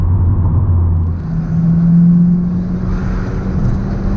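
A Stage 2 tuned Honda Civic Type R FK8 engine rumbles loudly from inside the cabin, its tone rising as it accelerates hard toward 170, with steady road noise throughout.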